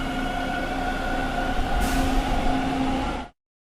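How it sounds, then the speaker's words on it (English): A subway train rumbles past close by in a video game, a steady metallic roar with humming tones and a brief squeal of wheels before the sound cuts off abruptly. "Did I just hear a train?"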